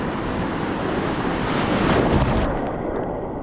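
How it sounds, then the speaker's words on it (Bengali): Big sea waves break on Digha beach in a steady, loud roaring wash of surf, swelling slightly toward the end, with wind buffeting the microphone and no voices. "অনেক বড় ঢেউ আসছে একটা।"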